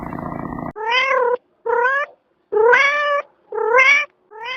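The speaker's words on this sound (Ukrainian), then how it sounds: "це кішка." A cat meows four times in a row, loud and close, each cry drawn out, after a brief burst of buzzy noise.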